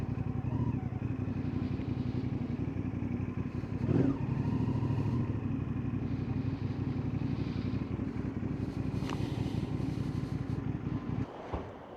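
A CFMoto 450SR motorcycle engine at full throttle on a long highway ride, a steady, sustained drone mixed with rushing wind noise. No one speaks.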